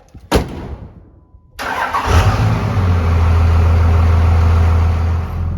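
A farm truck engine cranks over and fires up, then settles into a steady, loud idle with a deep rumble close by, with no talking.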